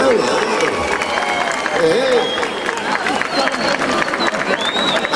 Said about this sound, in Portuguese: Agora uma salva de palmas para a televisão que eles estão aí a filmar.